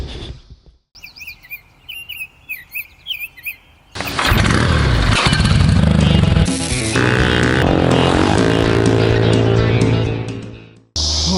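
Volkswagen Beetle engine idling loudly with a rattling, vibrating muffler that is coming apart; the engine starts after birds chirp briefly, then runs as a steady, buzzy drone close by.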